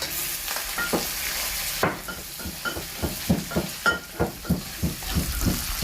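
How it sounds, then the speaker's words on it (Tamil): Mustard and fennel seeds with onion and curry leaves frying in hot oil, a steady sizzle under rhythmic stirring scrapes and clinks of a spoon against the pan, close and fairly loud, with no talk. "இப்போ வந்து பெருஞ்சீரமும் கடுகும் போட்டாச்சு அடுத்து வந்து வெங்காயம் கருவேப்பிலை இலையை போடுவோம்"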